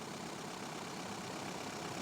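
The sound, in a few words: 1.9 commercial diesel engine idling after jump start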